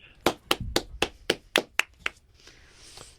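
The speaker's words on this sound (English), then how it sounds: "Why are you guys cheering for Chip?" A small crowd claps for Chip, with about eight sharp, evenly spaced claps like a slow rhythmic group clap, followed by a brief softer wash of cheering.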